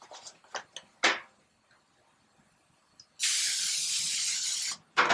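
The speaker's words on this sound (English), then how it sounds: "I'm going to start with 6 pans, and I'm going to spray them." Cooking spray hisses onto baking pans in a home kitchen: a few short, sharp bursts, then one long steady spray of about a second and a half, and a final brief burst, all close and clear with quiet gaps between.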